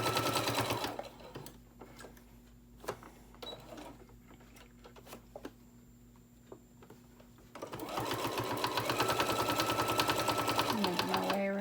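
A domestic sewing machine stitches fabric for a bowl koozie, its fast, even needle chatter loud and close at the start and again steadily from about halfway on. In the quieter middle stretch a voice talks over lighter handling sounds.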